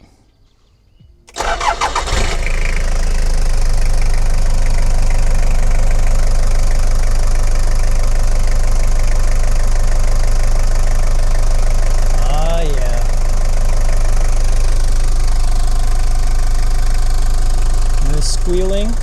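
A Toyota Hiace van engine cranks and catches after an alternator repair, then runs at a loud, steady idle with a dense low rumble filling the rest of the clip, close up.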